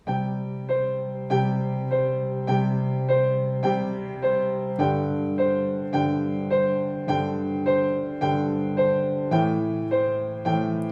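Piano right-hand notes rock back and forth in a steady repeating seesaw pattern over left-hand bass notes that change every couple of beats, played cleanly and evenly throughout.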